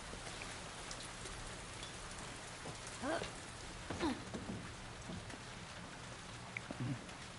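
Steady rain falls outdoors in The Last of Us Part II, a soft continuous patter of drops on surfaces, with a few brief brushing and rustling movements standing out near the player.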